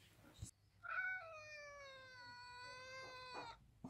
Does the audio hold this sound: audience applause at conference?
no